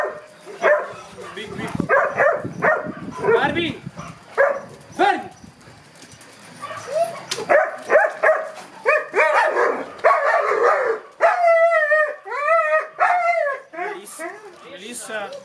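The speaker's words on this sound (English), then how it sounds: "nice dog" Big dogs in a group, including a large golden-retriever-like dog, bark and whimper in short bursts near and far, with people talking around them throughout.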